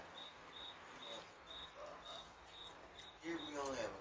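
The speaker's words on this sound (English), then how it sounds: "I don't know how many crickets we have." Crickets chirp in regular evenly spaced pulses, a steady high trill repeating about twice a second, joined near the end by a louder burst of other sound.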